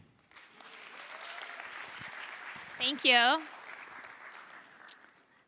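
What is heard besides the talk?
audience applause after startup pitch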